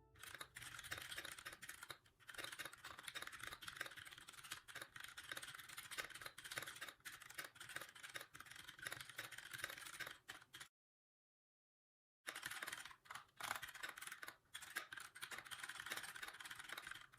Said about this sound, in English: now let's do a typing test